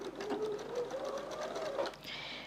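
A sewing machine stitches quilt pieces together in a quick steady whirring run, close and fairly quiet, before stopping briefly and restarting.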